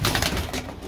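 Pigeons kept for breeding cooing while eating peanuts, a few soft, low murmuring coos close by, brief and fading quickly, with no talk.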